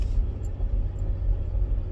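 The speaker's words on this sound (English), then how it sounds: "I should have just turned my camera so you could see the car that just went by" Car driving past, a low rumbling pass-by that swells and fades over a couple of seconds, fairly close and without talk.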